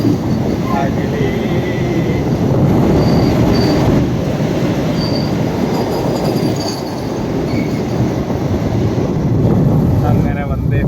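A Vande Bharat express train rushes past on a route out of Kerala toward Mumbai, a loud continuous rumble of wheels and carriages with faint metallic squeals and tones riding above.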